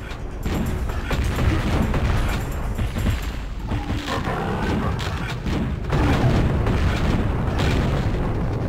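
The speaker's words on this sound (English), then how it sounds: "You might be wondering why I keep exploding." The player character exploding in Chasm: The Rift, a loud, dense rumbling roar of blasts that runs continuously close up, swelling and churning without a break.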